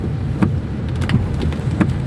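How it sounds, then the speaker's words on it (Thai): Heavy rain pouring steadily, a dense constant hiss with occasional heavier splashes close by. "ฝนตกนะช่วงนี้ สภาพฝนตก"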